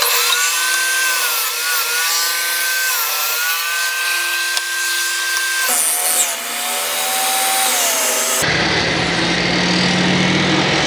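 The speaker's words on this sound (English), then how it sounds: "rip the strips off the bottom that will be then put back on over the hardware cloth" A power saw rips wooden strips for a garden riddle compost sifter, its loud, steady whine holding a tone that dips and shifts through the cut. A harsher, noisier grind takes over near the end.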